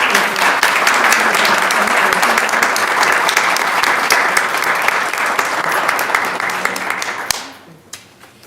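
Loud, sustained clapping fills the room at a school district board of education meeting, with many sharp claps in a dense crowd texture that then fades quickly into quiet.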